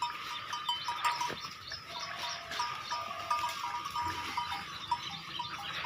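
Young goats on a farm, heard as scattered nasal bleats and rustling among the herd, moderately close against a steady background hum.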